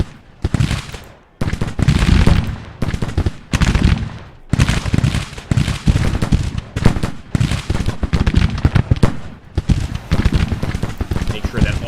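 Battle in the Grand Tactician Civil War strategy game, with dense, loud rolling volleys of musketry and artillery booms that surge and pause in bursts while a voice speaks over them.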